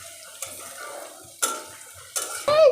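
Garlic drops into hot oil in a frying pan, with soft sizzling and a few sharp scrapes of a spatula stirring it, close up and without talk.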